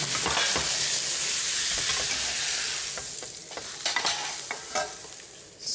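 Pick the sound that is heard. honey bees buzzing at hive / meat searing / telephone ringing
meat searing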